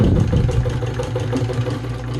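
Gritzner VZ domestic sewing machine stitching slowly through thick fabric, a steady low mechanical hum with a faint regular rhythmic beat, close and continuous with no talking.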